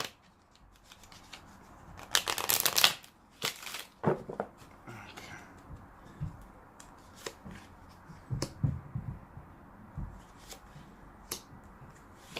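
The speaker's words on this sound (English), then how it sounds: "Tell me to shuffle one more time." Tarot cards being shuffled by hand in short, crisp riffling bursts and soft slides, close and intimate, with quiet pauses and faint murmured speech between the shuffles.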